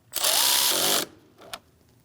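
A power tool tightens the negative battery terminal on a 2000–2006 Mini Cooper 1.6L, one loud, close burst of about a second followed by a brief faint second whir.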